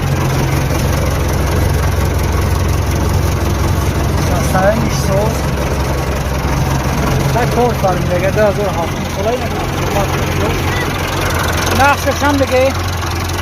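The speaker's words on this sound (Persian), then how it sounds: "اینه تراکتور" An MTZ tractor's diesel engine idles in a steady low rumble throughout, with someone talking over it close by.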